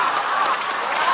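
A group clapping hands in rhythm during a laughter exercise session, a steady, fairly loud burst of applause-like claps with a faint crowd murmur.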